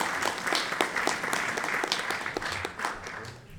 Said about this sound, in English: another round of applause on that question